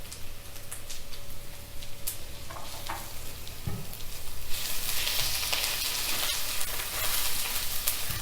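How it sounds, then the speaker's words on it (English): Aloo gobi matar with turmeric is stirred in a pan, giving a soft continuous sizzle of frying with faint scraping ticks and taps from the utensil, close and moderately quiet. "And then you want to give that all a stir around."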